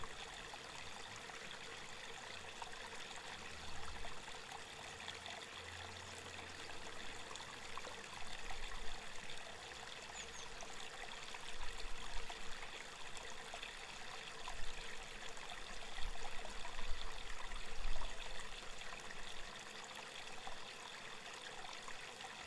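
A steady, gentle stream of river water flows and trickles continuously at moderate distance, a soft broadband rush with small swells in loudness and no voices.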